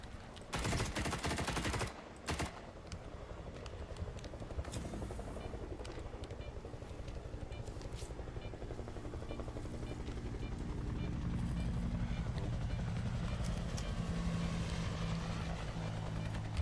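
A Hind D attack helicopter in the S.T.A.L.K.E.R. 2 video game thuds steadily with rotor and turbine roar, opening with a few sharp gunfire bursts, then the engine drone builds louder and continues alone.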